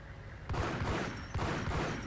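Rapid bursts of gunfire in the Max Payne video game as a small hut is shot up, loud, dense and alone with no talk.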